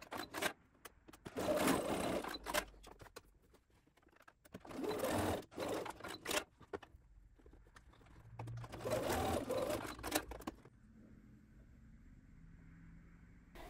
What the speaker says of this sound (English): sew and understitch across the top edge of the side back panels